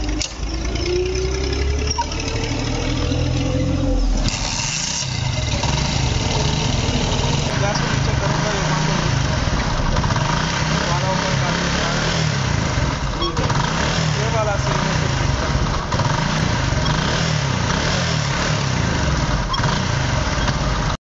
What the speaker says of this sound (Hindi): ऊपर करते हैं तो बाइक दोबारा स्टार्ट हो जाती है